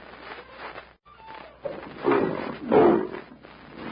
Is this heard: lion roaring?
yes